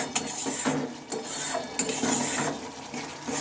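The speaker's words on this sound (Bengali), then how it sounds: "দেখো মশলাটা আমি ভালোভাবে কষিয়ে নিচ্ছি" A spoon scrapes and rubs steadily through a spice paste frying in a pan for a carrot and cabbage dish, a continuous gritty sizzle with repeated stirring strokes, close and fairly quiet.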